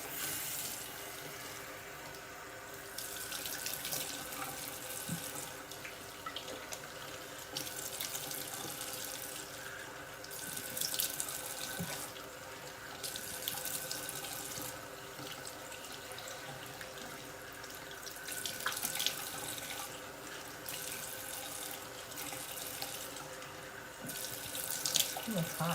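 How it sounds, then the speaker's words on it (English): Tap water runs steadily into a sink while hair is rinsed, a continuous hiss with pulses that swell and fade as the flow is interrupted, close and moderately loud with no talk. "now I'm gonna rinse this off"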